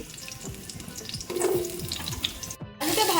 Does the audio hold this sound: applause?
no